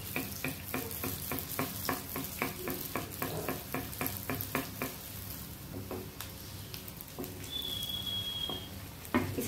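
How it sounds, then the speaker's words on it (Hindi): Potato rolls deep-fry in oil over a medium flame, giving a steady soft sizzle broken by rhythmic clicking and patter from stirring, with no talking. "मीडियम फ्लेम पे हम लोग फ्राई कर रहे हैं"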